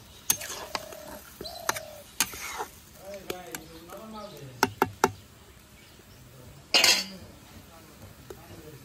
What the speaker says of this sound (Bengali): ঢাকনাটা ঢেকে দিই।